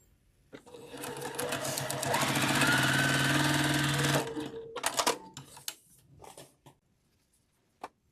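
A sewing machine runs in one quick burst of rapid stitching as a quilt piece is sewn onto a hexagon corner, followed by clicks and handling noises of fabric and machine.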